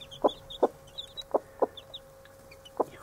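Repeated clucking danger call from a broody hen to her two-day-old chicks, about five sharp clucks spaced irregularly, near and clear over faint peeping in the background.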